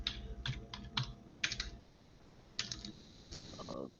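Quick bursts of typing on a computer keyboard, clattering keystrokes in short clusters with brief pauses between them, close and fairly quiet.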